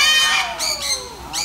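Birds at an ecological farm in Hsinchu, Taiwan, giving a few loud, harsh squawking calls close by, in two or three short bursts.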